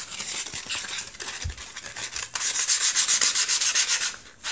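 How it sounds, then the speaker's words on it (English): Hand sanding on the outside of a thin homemade mechanical keyboard case, a continuous scratchy rasping that swells louder and steadier in the second half, close and alone with no talk. "But I do want to sand the outside off."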